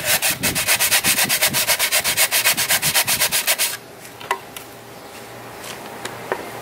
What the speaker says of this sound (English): Try and sand the whole distance of where that fuselage is going to fit in.